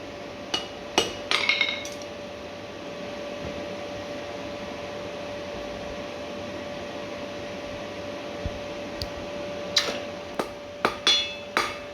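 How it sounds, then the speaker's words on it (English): Hammer blows ring out on a steel leaf key ring at the forge, a few scattered strikes early then a quicker cluster near the end, over a steady hum of blower or burner noise. "Cut the leaf off, and then you can start forging the other end."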